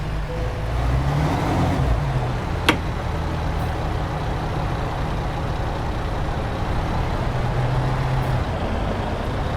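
A 2024 MAN truck pulls away, its deep diesel engine droning steadily and loudly up close, with one brief sharp click partway through and no talking.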